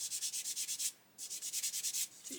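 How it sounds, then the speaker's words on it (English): A sander works over an Airfix 1/48 Sea King model kit, filling replaced rivet holes with sanding dust: two runs of rapid, even scraping strokes separated by a short pause, close and fairly quiet. "And if we go over with the sander,"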